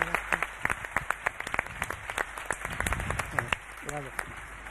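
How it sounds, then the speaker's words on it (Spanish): Audience applause at a televised debate, thin and uneven clapping under a steady background hum, with speech breaking in over it. "si quieren, pueden aplaudir"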